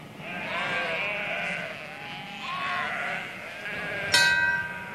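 Several sheep bleat in overlapping, wavering cries at moderate distance in Australia, with a sharper, louder bleat near the end.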